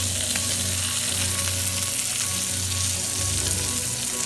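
Chicken and bacon fry in a pan with a loud, continuous sizzle and crackle, with faint stirring under it and a low hum in the background.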